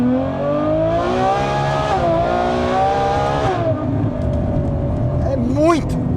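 A Ferrari F12 Berlinetta V12 revs as it is driven on a street in the early-morning hours. The loud, rising and falling engine note is heard from inside the car, with someone talking over it.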